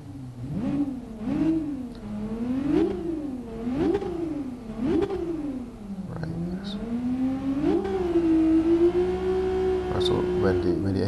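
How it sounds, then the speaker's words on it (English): A Toyota FT-1 2014 sports car engine in Gran Turismo Sport revs repeatedly in quick, rising and falling bursts, then holds a steady high whine; synthetic, game-like tone, close and loud. "So let's take a listen to how the engine revs."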